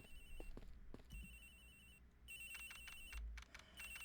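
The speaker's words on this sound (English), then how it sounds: "The ring is coming from somewhere in here, sir." A telephone rings in repeated electronic bursts inside a flight attendant's room aboard a plane in the video game Ace Attorney Investigations, the trills cycling steadily and fairly quiet over low background hum, with no talk.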